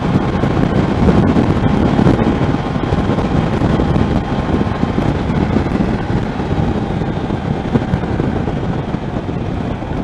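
Gusty wind roars steadily across the microphone during a ride, a dense, loud rumbling buffet that lasts the whole stretch without letting up.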